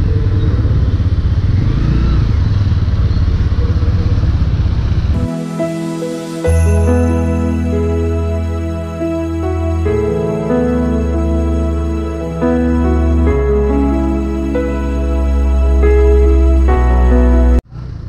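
A Bajaj Pulsar P150 motorcycle engine runs close by, idling with a steady hum and then revving up and down in several uneven surges before cutting off abruptly at the end.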